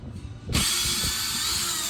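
A power driver starts up abruptly partway through, loosening Phillips screws on a Malibu boat throttle control with a close, steady mechanical whir and faint ratcheting.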